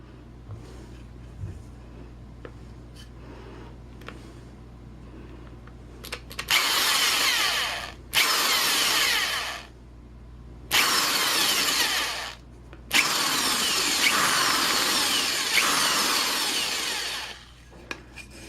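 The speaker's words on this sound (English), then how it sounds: "we just need to drill a hole there" A power drill bores into wood in four loud bursts, each a few seconds long, whining and rasping with short pauses between.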